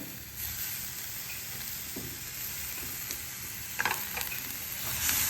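Chopped tomatoes sauté in a hot pan for a paneer butter masala, giving a steady close sizzle with a few scraping stirs of the spoon near the end and no talking.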